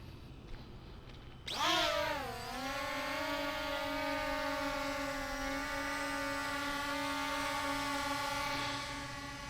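A WLToys XK X1 Baby Phantom toy drone spins up and takes off, its motors rising into a steady, loud buzzing whine that holds close by for several seconds.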